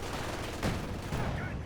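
T-70 light tank firing in Company of Heroes 2, a short burst of in-game gunfire with rapid cracks over a continuous battle din.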